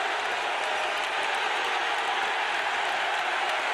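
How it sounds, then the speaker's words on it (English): Dense, steady roar of a basketball crowd cheering and applauding at an Auburn home game against Ole Miss, a loud continuous wash of claps and shouts with no pauses. "Listen to this crowd"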